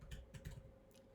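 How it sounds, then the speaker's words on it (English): Quiet typing on a computer keyboard, several soft, quick key taps in a short burst, close and faint with no talking. "I'm going to type the word average."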